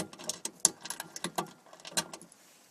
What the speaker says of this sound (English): I'm just getting out the last bolt right now